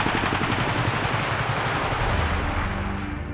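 Dense, continuous machine gun and rifle fire from World War II fighting between Finnish and Soviet troops on the Syväri front in 1941, a loud unbroken rattle of bursts throughout, with no voices.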